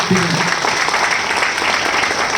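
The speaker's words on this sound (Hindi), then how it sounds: "जोरदार ताली प्लीज" Loud applause fills the room at a business event, dense steady clapping from a large audience that stays strong the whole way through.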